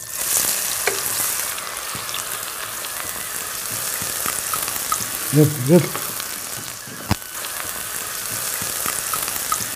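Bay leaf and onion pieces sizzling in hot oil for a mutton kurma, a loud continuous fry with crackling pops, a few clinks of a utensil stirring, and brief voices in the middle.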